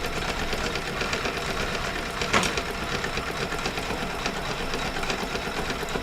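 A sewing machine stitching a bag runs with a steady, even mechanical whir, faint and continuous, with one brief louder knock partway through.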